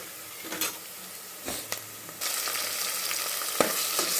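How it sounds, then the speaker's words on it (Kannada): Rice with tomato for ghee rice fries in a pan with a constant close sizzle, broken by a few sharp scrapes and knocks of a spatula as it is stirred, and the hiss grows louder partway through. "ಇನ್ನೊಂದು ಚೂರು ಫ್ರೈ ಮಾಡ್ಕೊಳ್ಳೋಣ ಸಾಕು"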